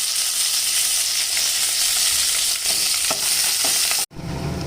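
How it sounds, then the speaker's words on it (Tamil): Loud, steady sizzling of mustard seeds, onion and curry leaves tempering in hot oil, with a few crackles and pops, then a brief drop and the sizzle continues. "ஒரு தாளிப்பு கொடுத்துடலாம். கொஞ்சம் கடுகு, வெங்காயம், கருவேப்பிலை"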